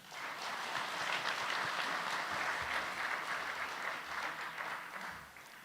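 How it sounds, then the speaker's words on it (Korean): A church congregation applauds steadily for the pastor after the sermon at a men's mission dedication worship service, a dense, even wash of many hands clapping that holds throughout and fades slightly at the end. "우리에게 은혜로운 말씀을 전해주신 목사님께 감사 박수 드리겠습니다"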